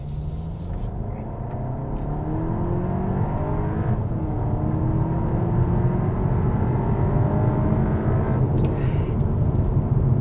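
A 2022 Volkswagen Arteon Shooting Brake accelerates hard in sport mode, its engine note rising steadily and growing louder as it pulls through the revs, heard from inside with no talking.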